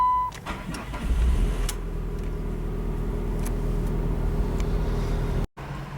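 A 2005 Chrysler PT Cruiser GT Convertible starts up nearby, a quick crank settling into a steady, close idle hum that runs for several seconds before cutting off abruptly near the end.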